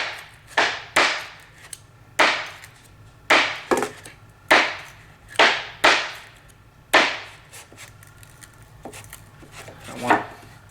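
SOG Team Leader knife tip stabbed repeatedly into wood, about ten sharp, close thuds in an irregular rhythm with short quiet gaps between strikes.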